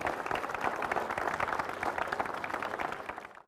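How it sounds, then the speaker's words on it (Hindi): Audience applause at a panel discussion on higher education, welcoming a biology subject expert onto the stage; dense, steady clapping from a seated crowd that holds for a few seconds and then trails off at the end. "मिस एकता जी, इनका जोरदार तालियों से अभिनंदन कीजिए"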